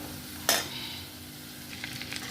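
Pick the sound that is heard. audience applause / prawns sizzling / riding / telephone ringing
prawns sizzling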